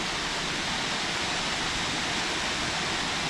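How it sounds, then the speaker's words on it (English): Steady broadband rush of a small waterfall in Australia, constant and fairly soft, with no pauses or voices. "Oh, there's a little waterfall."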